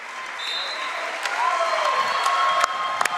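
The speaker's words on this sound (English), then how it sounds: "Everybody gonna clap." Spectators clap at a high school basketball game in a gym, a steady wash of applause with scattered sharp sneaker squeaks and thuds, while an announcer talks over it.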